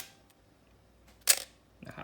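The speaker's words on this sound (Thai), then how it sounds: "ชัตเตอร์บี" A Canon AL-1 film camera shutter fires on its bulb setting: a sharp mechanical click opens it, and after a pause of about half a second a second, softer click closes it, close-up and otherwise quiet.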